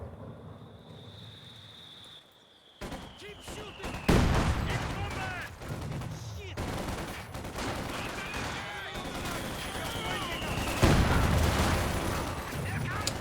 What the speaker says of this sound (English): Panzer Shreks are very, very powerful